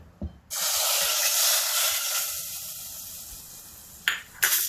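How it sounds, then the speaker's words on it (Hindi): A sudden loud hiss and sizzle as a hot oil tempering is poured into chana dal, fading gradually over a few seconds, with a couple of short clinks around it. "ये तड़का हम अपने दाल में डाल देंगे।"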